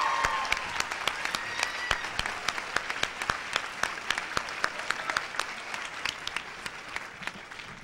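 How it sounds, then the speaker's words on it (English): An audience applauds Joe DeRose at a 1988 Stewart Brothers show, many distinct sharp claps forming a lively, steady patter at moderate distance, no one speaking over it. "And let's give a round of applause to Joe DeRose."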